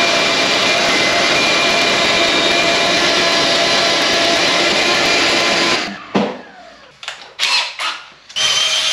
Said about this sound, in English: take a little vacuum, get a suck job around here.